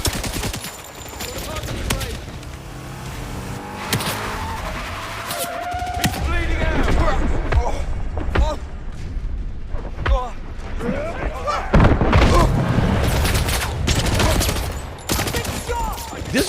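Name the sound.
explosions and gunfire in a video game demo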